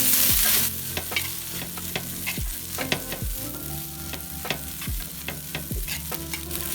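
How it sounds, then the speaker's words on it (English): Egg fried rice stirred and broken up in a hot pan, with steady sizzling under repeated scraping strokes of the utensil, close and fairly loud, no talking. "So guys, you have our rice in our pan, and we're just gonna break our rice down."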